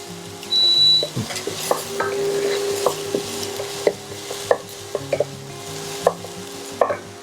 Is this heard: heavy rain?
no